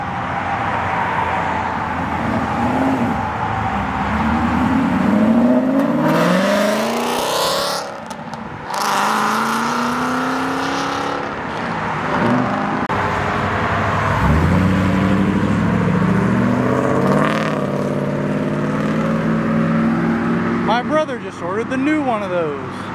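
Corvettes rev and accelerate hard leaving the Twin Peaks car show, engine notes rising and sweeping as cars pass close by, with crowd voices talking underneath throughout.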